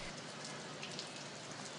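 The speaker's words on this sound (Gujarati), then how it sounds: "શહેરના અનેક વિસ્તારોમાં હલકાથી ભારે વરસાદી ઝાપટા પડ્યા છે" Rain pours steadily over a city street in Ahmedabad, a dense, even hiss of drops on surfaces filling the short moment without pause or voices.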